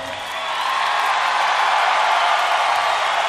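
Concert crowd at a show in London, Ontario, cheering and roaring in a steady, dense wash of noise that swells slightly at the start and holds loud throughout.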